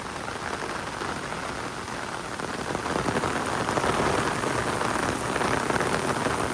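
Steady rain pouring onto a beach on Koh Kradan island in Trang, Thailand, a dense continuous hiss of drops that grows slightly heavier partway through, close and enveloping, with no voices.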